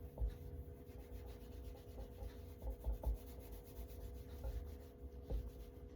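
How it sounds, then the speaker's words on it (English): Quiet rubbing and scraping of a veggie scrubber on a pumpkin's skin, a soft continuous scratchy texture with faint irregular thumps, close up and alone. "Veggie scrubber."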